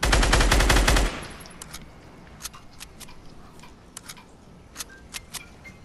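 Burst of rapid automatic gunfire from a squad shooter video game, loud at first, then scattered sharp distant shots and clicks over a quieter background.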